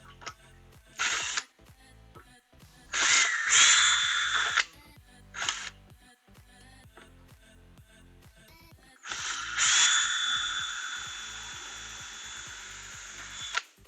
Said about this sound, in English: Might have to get the Dremel.